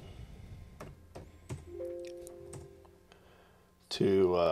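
Computer keyboard tapped on a Linux Mint machine: a few sparse, separate keystrokes, quiet and close, followed by a steady tone and then a voice starting to speak.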